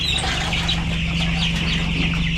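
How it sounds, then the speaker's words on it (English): Young chicks in a brooder, hardened off and nearly ready for pasture, keep up a continuous chorus of high peeping and cheeping close by over a steady low hum. "Let's get chicks out on pasture."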